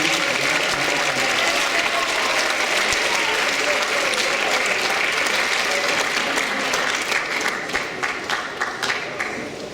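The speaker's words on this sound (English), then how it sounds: "Let's give them a big round of applause for their amazing dedication." Audience applause at a high school athletic banquet, a sustained, dense round of clapping from a crowded room that thins toward the end into scattered individual claps.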